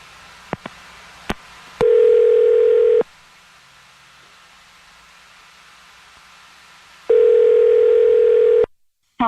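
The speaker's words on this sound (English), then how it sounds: "I'm going to dial her phone number right now." A phone call being placed during a radio show: a few sharp clicks, then two long, loud, steady ringback tones separated by a quiet pause, then an abrupt cut.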